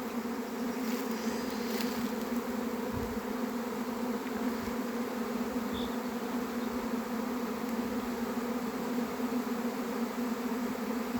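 A honeybee swarm flies into an empty hive, a dense, continuous buzzing drone of many bees filling the air at even loudness throughout, with no talk.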